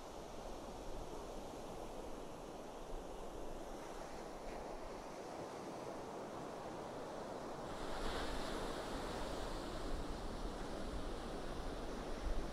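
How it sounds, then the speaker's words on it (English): Pacific Ocean surf rolls and washes continuously as a steady, broad roar, swelling a little louder toward the end, with some wind noise on the microphone and no voices. "Just listen to the sounds of the Pacific Ocean."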